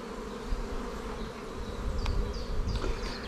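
Honeybees buzzing in a dense, continuous drone while a beehive is opened for inspection, close and steady, with a few light clicks and scrapes near the end.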